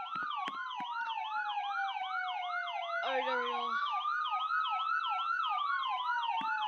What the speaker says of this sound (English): looks like ambulance is coming.